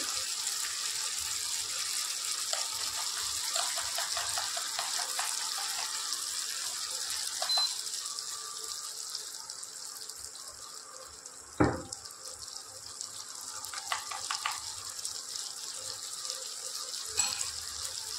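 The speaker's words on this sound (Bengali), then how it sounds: "এর মধ্যে অল্প জল দেব।" A little water is poured into a pan of shim posto, a bean and poppy seed paste dish, giving a steady, soft, splashy hiss that runs almost throughout, with one sharper splash near the middle.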